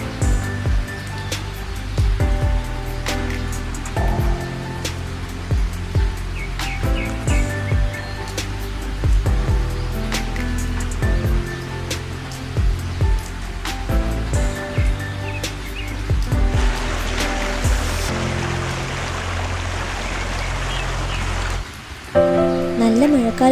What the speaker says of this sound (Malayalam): വെള്ളം ഒഴുകി വരുന്ന ശബ്ദം ഉണ്ടായിരുന്നു. നോക്കിയപ്പോൾ ദൂരെ വെള്ളച്ചാട്ടത്തിൽ നിന്നും ഒഴുകി വരുന്ന അരുവിയായിരുന്നു.